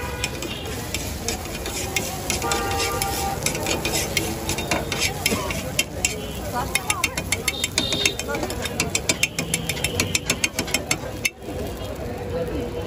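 Eggs sizzle and are stirred and scraped on a hot pan for Khulna-style dim ghota street food, with busy clattering spatula strikes over steady frying, amid street background noise.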